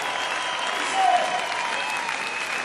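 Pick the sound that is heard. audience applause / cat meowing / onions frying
audience applause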